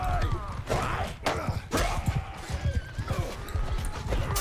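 In a medieval battle video game, cavalry horses gallop with rapid hoof clatter and let out several neighs amid clashing combat noise, fairly close and busy throughout.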